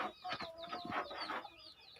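A Kadaknath hen, an all-black chicken breed developed in central India and kept in Nuwara Eliya, clucks close by in a quick run of short, bright calls with no one talking.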